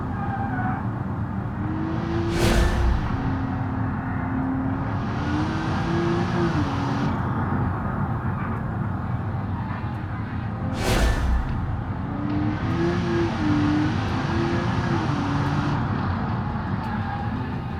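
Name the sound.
car driving laps in video game BeamNG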